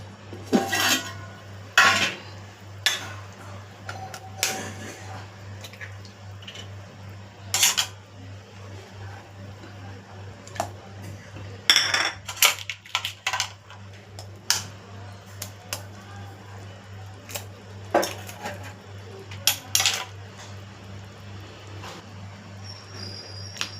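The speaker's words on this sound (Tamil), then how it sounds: "இப்போ அந்த 5 முட்டையே ஒன்று ஒன்றா உடச்சி ஊற்றி" Sharp taps of eggs cracking against a pan or bowl come one after another at irregular intervals, five eggs in turn being broken and poured, over a constant low hum with faint background talk.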